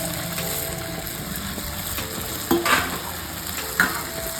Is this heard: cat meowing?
no